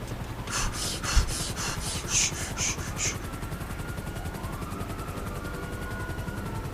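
A helicopter in the video game GTA 5 drones with a steady rotor chop throughout, with rapid bursts of gunfire in the first few seconds.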